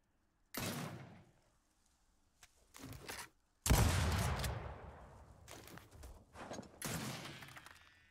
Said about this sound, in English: switch to my shotgun without moving cameras or anything